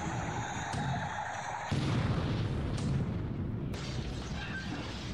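Naval deck guns firing in the war game War in the Pacific, a continuous heavy rumble of booming blasts with several abrupt sharp shifts as new shots land, loud and dense throughout.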